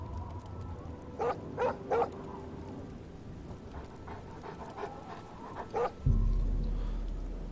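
A dog in The Elder Scrolls IV: Oblivion barks and pants in a few short, separate bursts at moderate distance, over quiet ambience that ends in a low rumble.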